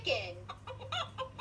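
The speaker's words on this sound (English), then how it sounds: "Chicken." Chicken clucking heard alone in a short burst of several quick, close, moderately loud clucks.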